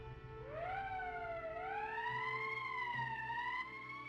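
An emergency siren in Valkyria Chronicles wails alone, rising and falling in slow sweeping tones, steady and moderately loud for several seconds.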